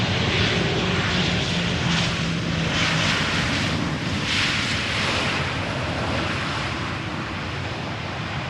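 A Sunwing Boeing 737-800 airliner, Canadian registered, arriving at Amsterdam Schiphol Airport, its engines a loud sustained roar that fades slightly toward the end, heard from nearby with no talking.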